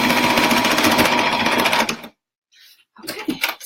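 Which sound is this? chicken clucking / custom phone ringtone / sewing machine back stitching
sewing machine back stitching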